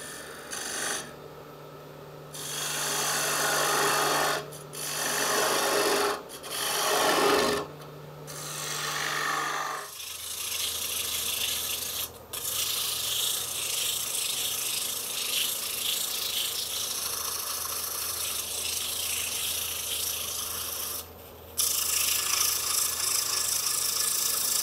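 Sandpaper rubs against a wooden coffee scoop spinning on a lathe, a steady close rasping hiss with a low motor hum beneath, broken by brief pauses, then a smoother, quieter continuous whir after the sanding eases.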